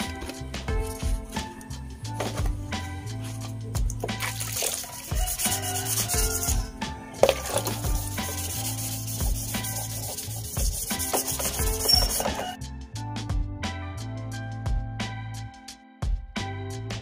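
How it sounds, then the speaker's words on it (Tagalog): 1000-grit sandpaper wet-sands a motorcycle's painted surface, rubbing back and forth steadily in long, continuous strokes, close and fairly loud, with brief pauses between passes. "Wet sanding yung gagawin natin."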